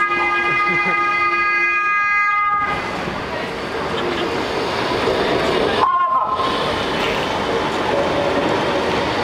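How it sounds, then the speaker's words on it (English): A horn sounds a steady multi-tone blast, then a tram rumbles by on a UK street with continuous rolling noise, another brief horn burst cutting through; a voice speaks briefly. "Mind the tram, please."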